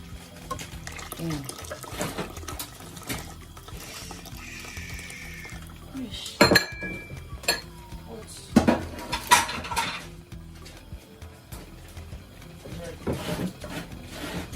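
Stock poured into a saucepan of palm nut paste and water while making palm nut soup, with pot and utensil clatter, liquid splashing and a few sharp clinks amid steady kitchen noise; speech is heard through the clip.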